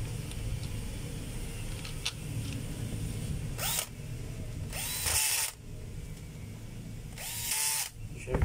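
A DeWalt DW810 4-inch angle grinder, just reassembled, spins up in three short bursts of high motor whine. Each burst lasts about a second, with quieter workshop background between them.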